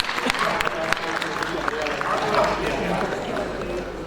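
Audience applause fills an award ceremony hall for a literary honours event, a steady dense clatter of many hands sustained throughout with a murmur of voices mixed in.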